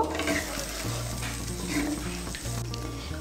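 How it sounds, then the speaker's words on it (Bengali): Rice and pointed gourd being stirred with hot water in a pot, a steady close scraping and sloshing with a faint sizzle underneath, no voices. "জলটাকে ভালো করে মিশিয়ে নেব।"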